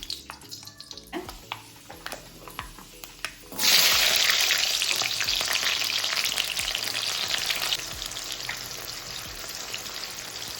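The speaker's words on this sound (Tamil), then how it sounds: "எண்ணெய் வந்து நல்லா சூடாயிருச்சு தாளிக்கிறதுக்கு வெந்தயம் சேர்த்துக்கிறேன்" A few soft clinks, then a sudden loud crackling sizzle as fenugreek seeds hit hot oil, hissing steadily and slowly settling.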